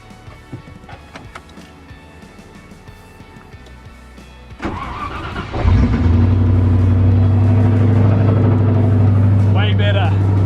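A V8 truck engine with its muffler removed cranks and fires up around the midpoint, settling into a loud, deep, steady rumble, with some quieter background activity and mechanical noise before it starts.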